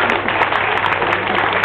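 Steady, dense audience applause at a live stage show by illusionist Eric Antoine, continuous and fairly loud throughout without pause.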